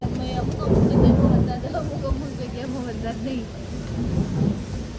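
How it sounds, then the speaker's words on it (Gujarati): Low rumbling thunder rolls beneath steady, windy monsoon rain, with a louder swell early on and another near the end, while a voice talks faintly underneath. "ગાજવીજ સાથે ધડાકા ભેટ ચાલુ"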